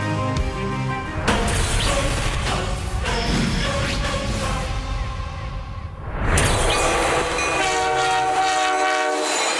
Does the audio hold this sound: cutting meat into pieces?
no